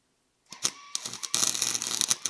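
Welding on the exhaust of a 1984 Ford F250 begins after a moment of quiet. Close crackling bursts and a rapid stuttering buzz follow in short runs, with no talk.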